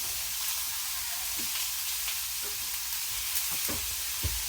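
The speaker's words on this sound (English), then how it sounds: "Now we add the hamburger meat. Just gonna cook it till it's brown and drain it." Hamburger meat frying and browning in a pan, a continuous close sizzle with scattered pops and a few scraping stirs, moderately quiet and without any talking.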